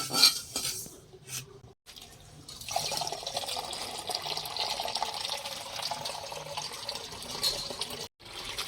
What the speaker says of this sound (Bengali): বন্ধুরা এখন বাঁধাকপিগুলো ধুয়ে নিচ্ছি ভালো করে